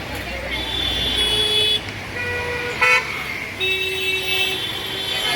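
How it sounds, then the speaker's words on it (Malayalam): Car horns toot in busy night city traffic near the Gateway of India and CSMT in Mumbai, with several honks over a steady roar of road noise and voices talking nearby. "ഹോണടിയും ബഹളവും ഒന്നും പറയണ്ട."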